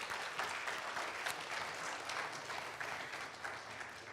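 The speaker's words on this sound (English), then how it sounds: "I would like to give him a clap" A town hall audience gives Ryan a steady round of applause, many hands clapping evenly at moderate distance and fairly quiet throughout.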